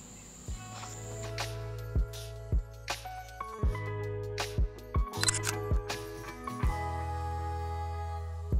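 A phone camera's shutter, fired by a wireless remote on an Ulanzi JJ02 extendable tripod grip, clicks about ten times in a loose, irregular rhythm, sharp and close over a steady background tone.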